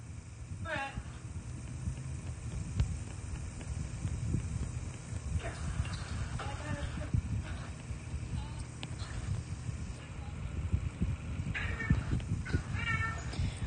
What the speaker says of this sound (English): I hear a baby meowing.